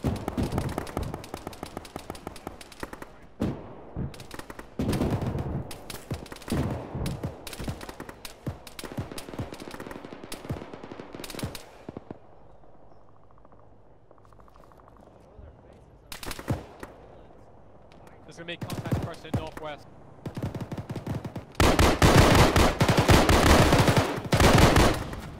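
Loud bursts of gunfire crack through an Arma military battle, with rapid machine-gun rattles and single shots coming in clusters, then a lull, before a dense, intense barrage closes the sequence.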